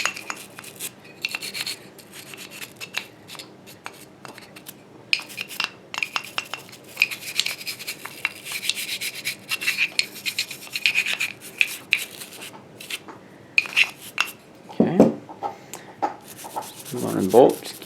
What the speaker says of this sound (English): take a little brush here and just kind of run it through just to make sure you get any deposits or residue that's in there